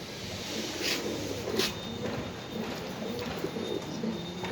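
Pigeons at a pigeon farm coo softly and repeatedly at moderate distance, with faint rustling and shuffling in between.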